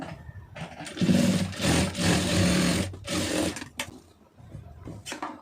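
A sewing machine runs in several short bursts while stitching a folded piping design, whirring loudly at close range between brief pauses and quieter clicks.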